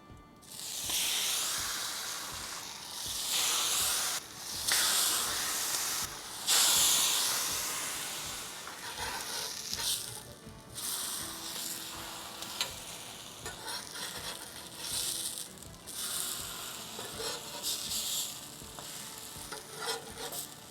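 Tortillas dipped in beef fat sizzle on a flat top grill for birria tacos, a loud steady hissing fry that surges each time fresh ones hit the hot surface, with scraping between.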